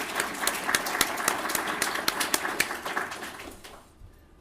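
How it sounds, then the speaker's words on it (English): A lecture audience applauds to welcome a speaker, with fairly faint clapping that holds steady for a few seconds and then fades out at the end. "Let's give him a round of applause"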